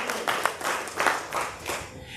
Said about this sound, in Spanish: se le va a dar un aplauso